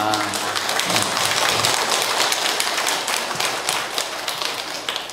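An audience claps during a Korean lecture by a Catholic priest, a dense, steady wash of many hands clapping that fills the room at moderate volume, with a faint murmur of voices underneath.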